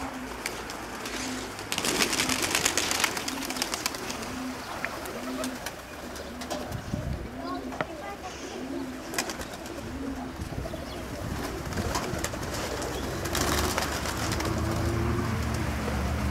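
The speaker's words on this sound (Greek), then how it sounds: "Αυτά ήταν τα πουλιά και του Γιάννη." Ornamental show pigeons coo repeatedly in soft, rolling calls at a club gathering, with occasional wing flaps and thumps and faint talk in the background.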